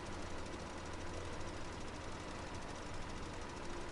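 Valtra limited-edition cow-pattern tractor engine in Farming Simulator 2017, a steady, continuous rumbling drone with a knocking, chugging texture, held at constant loudness throughout with no talk.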